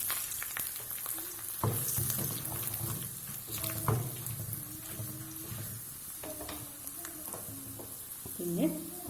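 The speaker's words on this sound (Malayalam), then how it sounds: "ഇനി ഉണക്കമുളക് ഇട്ട് കൊടുത്തതിലേക്ക്." Dried red chillies sizzling in hot oil in a pan while cooking curd rice, a continuous crackling fry with occasional stirring clatters, close and steady.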